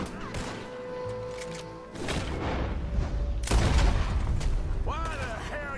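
Gunfire in a Red Dead Redemption 2 firefight, several sharp shots and heavy booms over a busy background, with voices shouting over the action.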